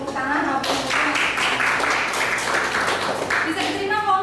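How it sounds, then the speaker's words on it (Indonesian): Group applause in a classroom setting after a teaching presentation, broad clapping noise sustained for several seconds with voices mixed in. "Good, tepuk tangan."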